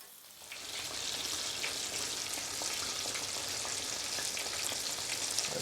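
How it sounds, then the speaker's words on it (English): Fish for masala fish and chips frying in oil over medium-high heat, a continuous close crackling sizzle that swells in the first second and then holds steady. "Cook the fish until it's nice and golden."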